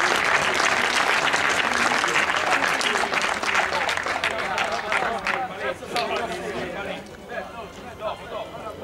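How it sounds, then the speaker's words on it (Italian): Loud crowd applause at a junior football tournament award ceremony for the second-placed team, dense clapping that gradually thins into scattered claps with chatter underneath. "quindi all'Alba Longa, un bel applauso."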